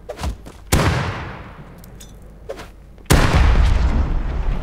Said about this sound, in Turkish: Patladı kanka. F1 bombasıyla patlattık.